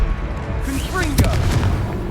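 Fire-spell blast from Confringo in Hogwarts Legacy, a single booming burst with a crackling whoosh near the middle, over steady game ambience and rumble.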